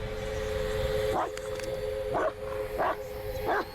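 A dog in the Blair Witch video game gives four spaced, mid-distance yelps or whimpering barks over a steady hum and low ambient rumble.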